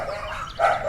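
A dog barks once or twice in quick succession, moderately loud and fairly close, after a brief lull.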